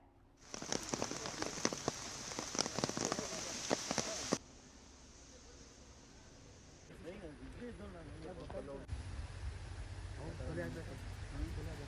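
Rain patters steadily outdoors as police carry out an operation to recover a body, a dense hiss of drops that is louder at first, then settles under some movement and background activity.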